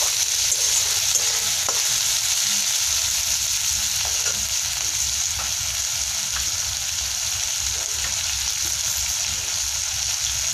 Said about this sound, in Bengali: ওখানে লঙ্কা আর পেঁয়াজ অনেক ভালো মতো ভাজা হচ্ছে